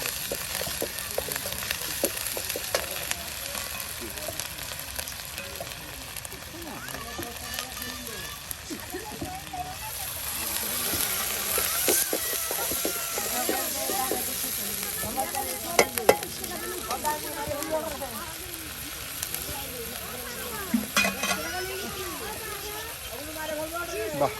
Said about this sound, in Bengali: সকল প্রকারের মশলা দিয়ে বাটা মশলা দিয়ে কিন্তু এটাকে ভালো করে কষানো হচ্ছে